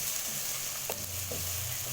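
Bell peppers frying in a pan for veggie fried rice give off a steady close sizzle, broken by a few soft scrapes as they are stirred, with no talking.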